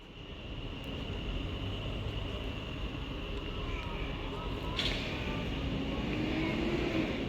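An electric passenger train departing Stafford station on the West Coast Main Line, a low rumble and rising hum building steadily, with a faint tonal whine and a brief high screech midway.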